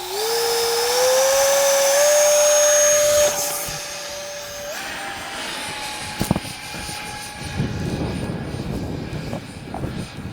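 An Arrows 50mm EDF T-33 radio-controlled jet whines loudly overhead at about half throttle, its pitch rising smoothly before it recedes into a fainter drone amid gusty wind noise.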